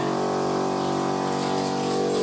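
A water pump runs steadily, pouring a continuous stream of water under a constant mechanical hum.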